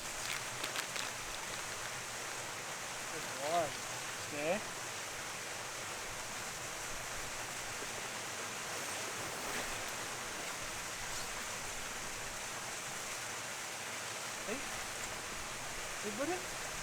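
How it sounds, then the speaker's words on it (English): A low-flowing waterfall in the Peak District gives a steady, soft rushing wash throughout, heard from a moderate distance, with a few faint brief sounds over it. "This is probably the lowest I've seen the waterfall."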